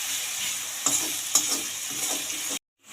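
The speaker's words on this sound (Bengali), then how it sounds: "ভালো করে পেঁয়াজটাকে ভেজে নেব ব্রাউন করে" Onions browning in a little oil in a pan, a steady close hiss with a few sharp stirring scrapes, ending abruptly in silence.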